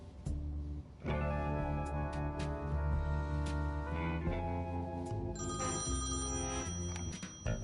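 A telephone rings in the video game Thimbleweed Park. The bright, insistent ringing runs continuously over a layered musical backdrop.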